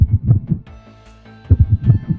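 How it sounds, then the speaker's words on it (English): William's heartbeat from the video game FNAF throbs in deep, loud double beats, a steady run of thumps that pauses briefly under a low hum before resuming. "William has a heartbeat as heard here"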